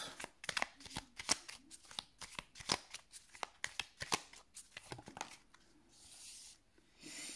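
Tarot cards cut and shuffled by hand, a run of crisp riffling snaps and soft slides close up, with a brief faint voice and a smoother rustle near the end.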